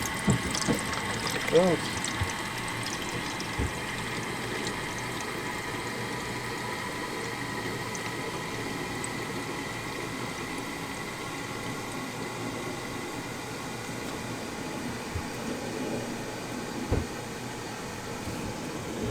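Water runs steadily through a three-stage filter toward the carbon stage, a continuous low hiss and rumble with a brief voice near the start.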